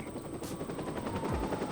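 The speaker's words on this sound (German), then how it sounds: "So, das war der Helikopter." A police helicopter in Watch Dogs drones with a fast rotor flutter, loud and close, mixed with a brief sharp burst early on and a low thud near the end, and no speech.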